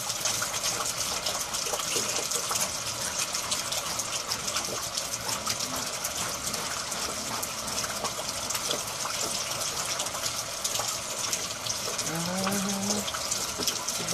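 Water runs steadily from a tap while a pet gets a bath, a soft continuous gush and splash close by, with a brief faint voice near the end.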